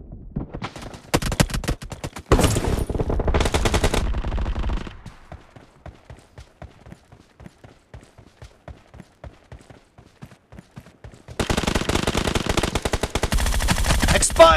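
Automatic gunfire in BGMI team deathmatch gameplay, loud rapid bursts at the start and end with quieter, sparser single shots in between, close and dense.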